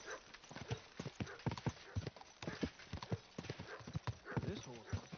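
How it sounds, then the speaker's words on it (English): Horse hooves clip-clop in a steady, quick rhythm in Kingdom Come Deliverance 2, close and fairly loud, with a brief whinny and talk over the top. "This horse."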